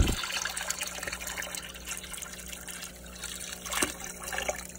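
Water trickles and splashes steadily into a newly set up saltwater reef aquarium as items are poured in, a soft continuous liquid flow over a constant low hum of tank equipment.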